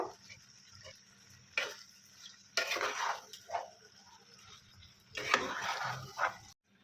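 Marinated chicken pieces for a sesame chicken curry are stirred in a pan, giving intermittent scraping and clattering bursts of utensil against metal over a soft background hiss, with short quiet gaps between strokes.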